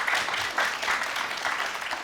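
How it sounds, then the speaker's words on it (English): Brief round of audience applause at a climate resilience session, soft steady clapping from a moderate crowd lasting a couple of seconds. "Let's have a round of applause for the first question"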